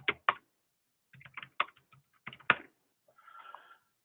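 Keystrokes on a computer keyboard entering commands, heard as short clustered bursts of taps with pauses between, close and fairly quiet, followed by a faint tonal hum near the end.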